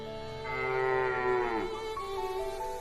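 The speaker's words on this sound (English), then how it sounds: "A low cow moo drifts from deep in the prairie." A cow gives a long, low moo from somewhere out on the open prairie, carried over a faint windy background and fading away at the end.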